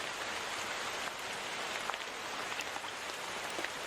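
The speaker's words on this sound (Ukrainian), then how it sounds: "послухай звуки дощу" Steady rain falling on a surface, a dense, even patter with occasional sharper drops standing out, continuous throughout with no voices.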